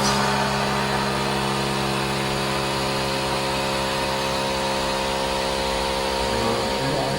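An Elk lifting cushion's compressor runs steadily as the cushion inflates, a loud, continuous motor drone with a strong hum that holds level and shifts slightly near the end.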